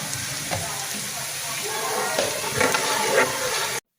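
Whole garam masala spices with cloves frying in a pan, a steady crackling sizzle with soft stirring scrapes running throughout, fairly close and even, then cutting off abruptly near the end.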